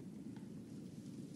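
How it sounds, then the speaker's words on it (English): Heavy rain in the video game Chilla's Art: The Kidnap gives a faint, steady low rushing hiss with no clear break, heard alone without voices. "It's raining pretty hard."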